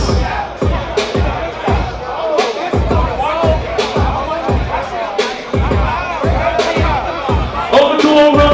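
A ballroom crowd applauds and cheers at a ball, a dense wash of clapping with whoops over sharp recurring thumps of music, loud and sustained throughout.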